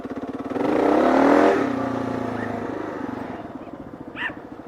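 A KLR650 dual-sport motorcycle revs up loudly and close by as it drifts and slides, then settles back to a pulsing, lower idle-like throb.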